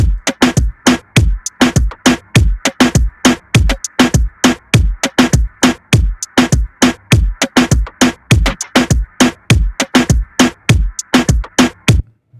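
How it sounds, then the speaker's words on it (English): Reggaeton drum loop with punchy kicks, crisp hi-hats and a syncopated counter snare, repeating in a steady dembow rhythm for the full length, loud and alone with no talking. "So the whole drum loop sounds like this."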